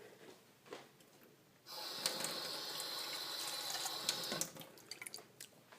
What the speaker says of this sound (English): just swish it all around to get all that from the bottom of the can